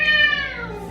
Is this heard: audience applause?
no